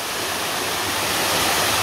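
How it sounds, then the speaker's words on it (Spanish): El Salto waterfall, a seasonal cascade flowing in winter, roars as a steady, dense wash of falling water filling the whole clip, loud and unbroken with no voices. "Pero miren qué hermosa es esta cascada del Salto."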